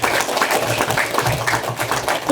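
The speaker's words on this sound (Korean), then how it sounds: "누가 그 생각을 하셨는지 큰 박수 한번 보내주셔야 할 것 같습니다." Steady, dense applause fills a community lecture hall in Jangheung at a public talk on the Donghak war, a continuous crowd of hands clapping throughout with no pauses.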